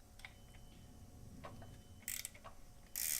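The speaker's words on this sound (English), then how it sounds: "If you're using a ratcheting wrench," A ratcheting wrench works a bolt while a rear engine mount is removed from a 2018 Honda Civic Type R, giving faint scattered clicks and then two louder bursts of rapid ratchet clatter near the end, with no voices.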